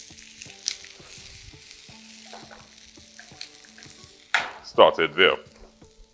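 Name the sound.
onions and bell peppers frying in a pan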